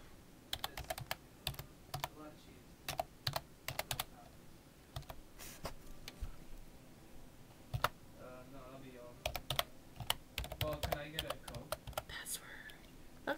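Rapid keystrokes on a computer keyboard as a long password is entered, irregular bursts of close clicks with brief pauses, faint whispering or murmured speech underneath.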